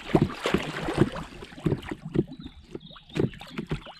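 Small waves slap against the hull of a drop stitch kayak on open, choppy water, a series of close, uneven splashing hits with wind noise on the microphone.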